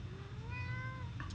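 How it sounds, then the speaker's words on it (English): A house cat meows insistently for attention indoors, a short rising-and-falling call with clear tonal harmonics, close and fairly quiet over a low steady room hum, with a brief second yelp at the end. "that is my cat. She is demanding my attention."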